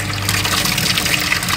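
Water pours steadily out of the drain pipe of a hydraulic bench in a lab during a Bernoulli experiment, a continuous close splashing gush with a faint pump hum beneath, no talking.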